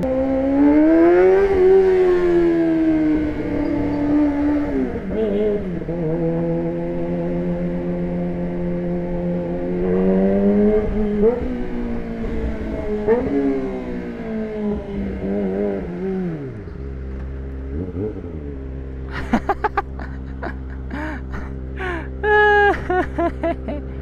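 A Kawasaki ZX25R motorcycle riding in traffic, a loud, high-pitched four-cylinder engine droning and rising and falling with revs for most of the stretch, then dropping to idle with a few sharp bursts near the end; a voice talks over it.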